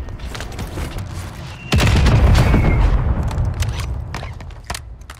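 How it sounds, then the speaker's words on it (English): A heavy missile strike explosion in a video game, arriving as a sudden deep boom that rumbles and slowly fades, with scattered faint clicks and crackles before and after. "Firing missile at target coordinates."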